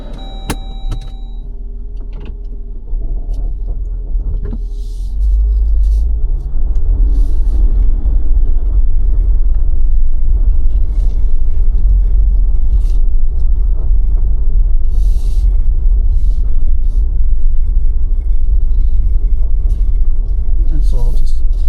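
Jeep Wrangler starting up and driving off, a low steady engine rumble with road noise filling the cabin, and a person talking over it.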